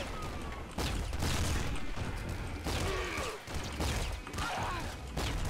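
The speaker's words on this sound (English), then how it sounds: "Oh, grenade!" A grenade goes off amid a chaotic firefight in the video game Nuclear Throne, with dense bursts of gunfire and booming blasts filling the scene at close range and no quiet gaps.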